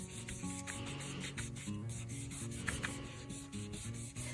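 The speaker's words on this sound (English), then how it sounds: "you don't have to watch me burnish and glue and all of that" Paper strips being burnished and glued for a rex begonia craft leaf, a quiet continuous rubbing and sanding-like scrape with soft rhythmic strokes and no talk.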